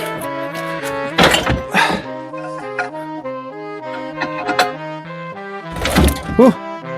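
A heavy manual gearbox from a Volvo V70 drops down with a couple of dull, solid thunks amid clanking, while someone talks and exclaims close by over a musical backing.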